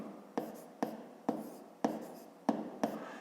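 Pen or pencil writing by hand during a fifth-grade math exercise, six crisp strokes tapping and scratching on paper in an even rhythm, close and fairly quiet with no talk.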